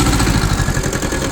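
A Yanmar YM1300 two-wheel-drive Japanese tractor with a rotary tiller, its engine running loud and close with a steady low throbbing rumble as the throttle is raised.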